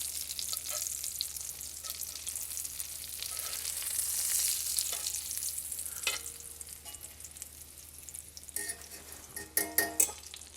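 Crab cakes frying in hot oil in a pan, a continuous soft hiss and crackle with occasional clatter of a utensil near the end, no voices.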